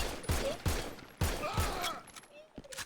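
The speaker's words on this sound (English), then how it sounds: "Shots fired!" Video game gunfire in several sharp bursts, the shots crack out close and loud in an irregular volley, with a voice briefly audible between the reports.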